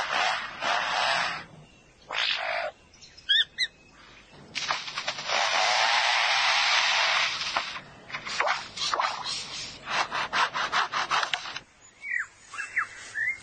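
A lyrebird mimics foresters' chainsaws working nearby, making harsh buzzing bursts of varying length, some short and stuttering and one long steady drone, mixed with brief chirping notes.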